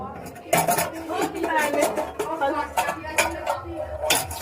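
Tea cups and a plate knock and clink together in a run of sharp, close, irregular chinks, with voices talking in the background.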